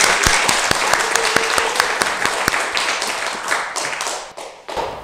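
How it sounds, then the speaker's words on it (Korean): An audience at a Won Buddhist temple lecture (Daemyeong Gyodang) applauding to welcome the speakers: a room full of sharp, scattered handclaps that thin out and trail off toward the end. "큰 박수로 모시겠습니다."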